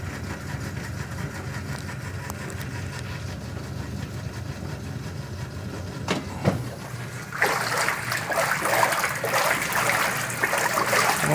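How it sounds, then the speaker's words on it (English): A Zenith wringer washer hums at idle, then the agitator lever engages with a clunk and a sloshing, churning wash action of water starts and continues steadily up close. "So let's turn it on and I'll show you the wash action. Switch the agitator lever on here."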